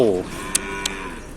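Cattle at a northern Thai native-breed livestock market in Nan give one short, close moo, with no people talking over it.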